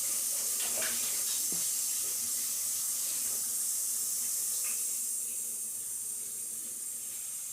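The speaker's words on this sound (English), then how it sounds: "I'm gonna wash my hands first." Hands are washed under a running kitchen tap, a steady hiss of flowing water with faint splashes that holds close and fairly even, easing slightly toward the end.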